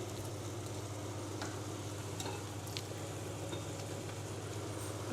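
Minced meat stewing on low heat in a covered pan, a steady soft sizzle with occasional faint ticks and clicks, close and quiet, with no voices.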